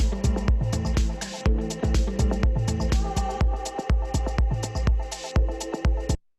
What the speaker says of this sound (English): just listen to how that'll randomly stop